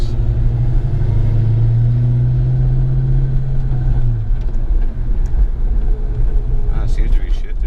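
A 1993 Cobra with a newly installed TKO600 transmission rumbles steadily from inside the car on a test drive, its engine note rising then settling as gears change, with speech over it.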